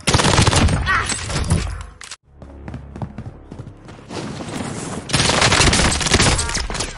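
Rapid automatic gunfire in a video game, loud dense bursts up front, a brief drop to near silence, scattered shots, then another sustained volley close by.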